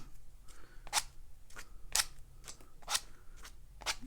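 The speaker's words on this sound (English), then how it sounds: "You can use a credit card to scrape too." A credit card scraping across wet watercolor paint on paper, making about six short, sharp rasping strokes at a steady pace, close and fairly quiet.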